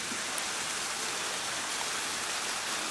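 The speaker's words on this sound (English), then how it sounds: "I'm seeing the water and I'm hearing the water now." Steady broadband rush of flowing water from a waterfall and stream along the Wild Rice Trail, heard from a cliff edge as a constant, even roar with no talking.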